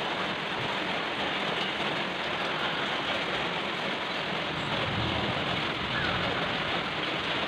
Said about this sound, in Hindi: आज सुबह से बारिश हो रहा है